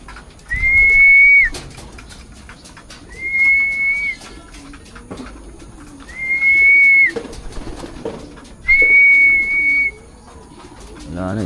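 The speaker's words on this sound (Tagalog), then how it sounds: "yan yung brown na ibon na yan" A brown bird gives four drawn-out whistled calls at steady intervals, each about a second long, with quiet background rustle between them.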